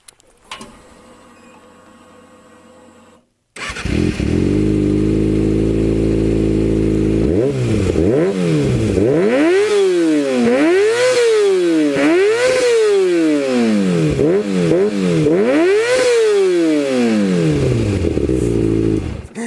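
A Kawasaki ZX6R sport motorcycle engine idles quietly, then roars loudly up close, revved hard again and again in rising and falling surges.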